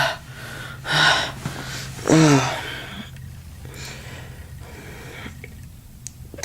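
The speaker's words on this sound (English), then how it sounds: "let me just catch my breath" A person catching their breath, with two loud, heavy gasping breaths close by, followed by quieter, softer breathing and faint sniffs.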